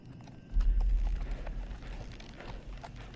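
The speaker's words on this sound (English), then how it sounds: "There's a horse." Horse hooves clip-clopping in The Walking Dead video game, a low thudding gallop that swells in at half a second and carries steadily close by, with no talk over it.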